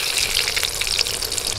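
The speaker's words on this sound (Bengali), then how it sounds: "এবার আস্তে আস্তে করে ভেজে নিতে হবে" A big pomfret fish fries slowly in oil in a pan, seaside fish-fry style, giving a steady crackling sizzle with scattered sharp pops, close and fairly loud, with no talking.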